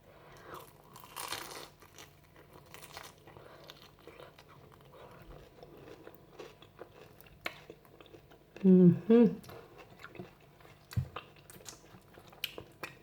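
Crunchy bites into fried rice-paper spring rolls, a few loud close crunches in a brief burst midway, surrounded by quieter mouth noises and faint background sounds.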